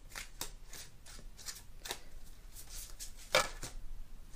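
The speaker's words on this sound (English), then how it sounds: "We're going to give these a shuffle and then slip some more." Tarot cards being shuffled by hand: a series of soft papery riffles and slides in irregular bursts, with one sharper, louder flutter near the end, close up and without speech.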